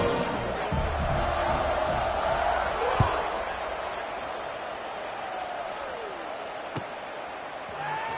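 Football stadium crowd at a university game as the kickoff approaches, a steady broad roar of many voices with a couple of sharp thuds, while a commentator talks over it.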